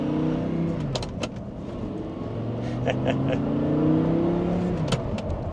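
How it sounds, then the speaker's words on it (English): A powerful sports car engine with an aftermarket exhaust drones close by, its pitch sliding up and down as it revs through gears, steady and loud throughout. "I have an exhaust on my car, so it's gonna be a lot louder than this"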